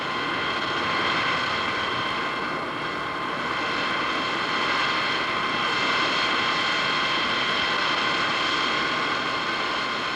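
McDonnell F-101 Voodoo jet fighter of an all-weather interceptor squadron: a steady, loud engine roar with a sustained whining drone held for about ten seconds, no voices.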